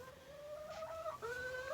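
A chicken inside a clean chicken coop gives a couple of drawn-out clucking calls, close and clear against quiet background hum.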